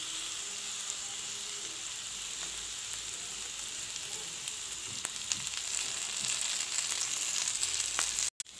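Chicken kofta sizzles on a grill with a steady, close crackling hiss, occasional sharp pops and faint scraping as pieces are turned, and no voices.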